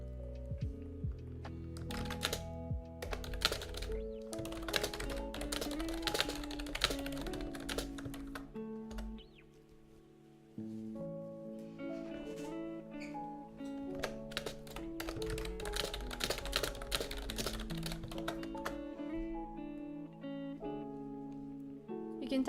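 Fast, continuous typing on a computer keyboard, close-up clicks and clacks in quick irregular bursts with a short pause partway through, set against a steady musical backing.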